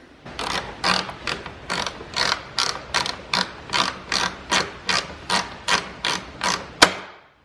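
A hand ratchet tightening a 10 mm bolt on a Jeep Gladiator Mojave hood strut bracket, giving about a dozen and a half quick, evenly spaced clicking bursts, loud and close, with a final sharper click at the end.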